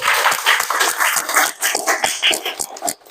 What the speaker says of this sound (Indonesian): Boleh diberikan tepuk tangan untuk pembelajaran kita hari ini.